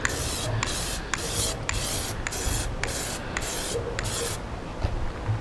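Plasti Dip coating being sprayed onto plastic Supra dashboard parts: a steady run of short, rapid hissing aerosol bursts, close and fairly loud, over a constant background rush with no talking.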